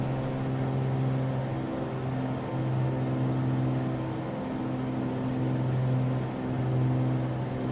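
A Cirrus SR22's piston engine drones steadily in Microsoft Flight Simulator 2020 as the throttle eases back, a constant mid-level hum that wavers slightly in pitch with no voices over it.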